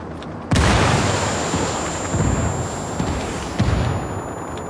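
A frag grenade goes off in the combat game Ghost Recon Wildlands with a sudden loud boom, followed by rumbling blasts and heavy gunfire that keep booming and thudding close by.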